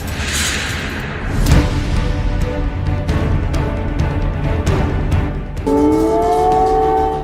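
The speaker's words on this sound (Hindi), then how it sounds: "कीव में मिसाइल वाला सायरन बज रहा है।" Missile air raid siren wailing over Kyiv during the Russia-Ukraine war, starting near the end as a rising, steady tone after a stretch of rumbling street noise and passing whooshes.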